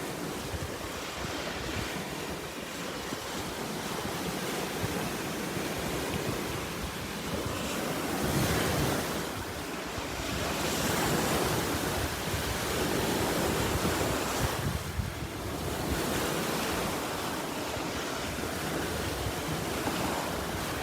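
Ocean waves crash and break on the shore near the Golan and Jordan, with a steady roar of surf and wind buffeting the microphone. Several larger swells surge and burst in turn across the stretch.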